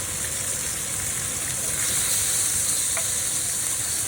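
Porterhouse T-bone steak searing on a grill after smoking, a loud, steady, hissing sizzle that continues without break, close up, with no talking.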